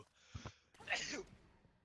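One sharp, close sneeze bursts out during live game commentary, with a quick catch of breath just before it.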